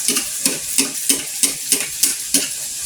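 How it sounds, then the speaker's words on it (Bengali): Luchi flatbread deep-frying in hot oil, with a steady loud sizzle broken by regular rhythmic bursts about every third of a second as the oil is spooned or stirred, close up and with no voices. "দেখো, আমি আরেকটা ভেজে দেখাচ্ছি।"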